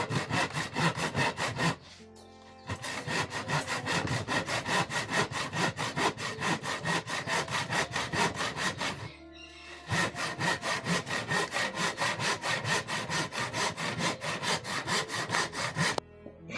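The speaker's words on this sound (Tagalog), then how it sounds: "ang galing pala ni Tuan maggabas oh" A hand saw cuts through wood in long, even back-and-forth strokes, loud and close, with two brief pauses before sawing resumes at the same steady rhythm.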